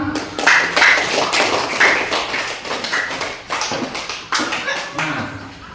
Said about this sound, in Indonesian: Baik, tepuk tangan semua.